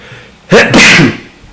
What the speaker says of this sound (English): I've got a sneeze on its way.